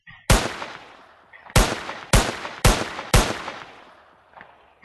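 Five sharp, loud pistol shots ring out in the video game Indian Bike Driving 3D at uneven spacing, each one followed by a short decaying tail, with a faint sixth report at the very end.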